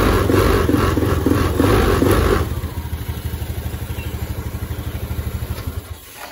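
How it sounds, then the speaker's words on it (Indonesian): A Honda Beat ESP scooter with a fuel-injected engine that stutters under throttle and is hard to start. Loud, close revving for about two seconds drops to a rough, pulsing idle that chugs on rhythmically before fading near the end. "Sebelum saya reset ini motornya kondisinya udah normal, cuma kalau digas masih agak nyendat kawan, nggak bisa los."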